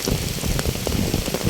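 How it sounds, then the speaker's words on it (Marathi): Steady rain falling outdoors near a beach, a dense broadband hiss with scattered drop impacts, fairly close and continuous without talk. "एवढा मस्त पाऊस होतो"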